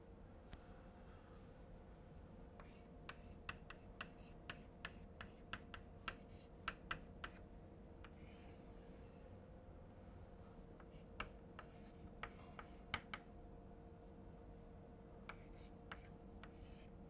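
Someone writes out a mathematical expression by hand, making a scattered series of soft scratchy strokes and light taps over a steady low background hum. No voices are heard.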